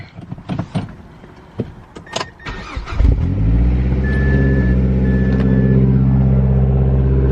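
After a few clicks and thumps, a Mazdaspeed 6 engine with a new downpipe cranks and fires up, settling into a loud, steady idle with a faint whistle.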